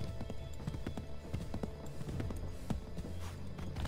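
Hooves of a galloping horse in Assassin's Creed III at Lexington and Concord, a quick, steady clip-clop rhythm of hoof strikes over a low outdoor rumble.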